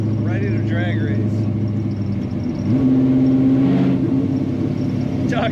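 Engine of a 1955 Chevrolet 210 two-door hardtop restomod, a steady close rumble that swells as the throttle is blipped partway through, with a voice talking over it early on.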